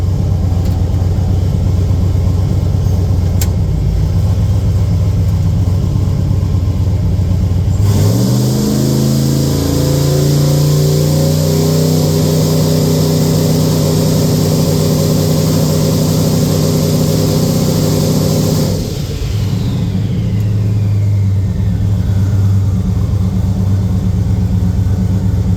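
A big-turbo OBS GMC truck engine, held on a transbrake, idles loudly, then revs hard and holds a steady high roar for about ten seconds before dropping back to a rumbling idle, with no talking.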